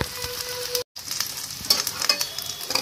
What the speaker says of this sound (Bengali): উল্টিয়ে পাল্টিয়ে এগুলোকে গোল্ডেন ব্রাউন করে ভেজে নেবেন